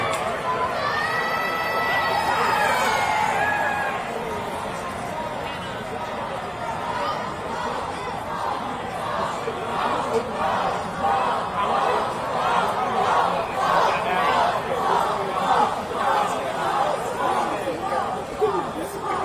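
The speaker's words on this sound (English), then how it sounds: "just a crowd around me." Crowd at a Gaza solidarity protest encampment at Columbia University in New York City, with a steady hubbub of many voices chattering and calling out nearby, continuing throughout.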